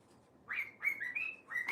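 Buster the cockatoo gives a short string of whistled, squeaky calls, four or five rising and wavering notes in quick succession, fairly close against a quiet room.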